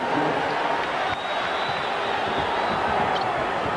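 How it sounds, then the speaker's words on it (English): Basketball crowd roaring steadily at the Delta Center during an NBA Finals game between the Utah Jazz and Chicago Bulls, a dense continuous wash of cheering, loud and unbroken, with an announcer talking over it. "Listen to this crowd at the Delta Center."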